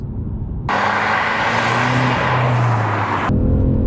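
A 2020 BMW M5 Competition accelerating hard, its engine roaring up loudly and steadily for a few seconds inside a broad rush of road noise.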